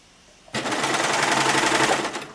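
Sewing machine stitching a French dart on a garment, a fast, close, rattling run of stitches that starts abruptly after a moment of quiet and continues evenly to the end.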